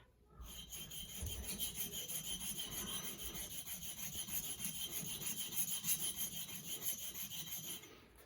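A marking knife is stroked back and forth on a sharpening stone, a faint, close, continuous scraping rub with a gentle repeated rhythm and no talking.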